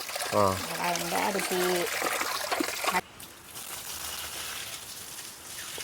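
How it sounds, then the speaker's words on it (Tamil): Water swishes and trickles steadily as rice is washed, with a person talking over it at first, then the sloshing continues alone. "அரிசி கழுவி கொண்டிருக்க இங்கே பாருங்க."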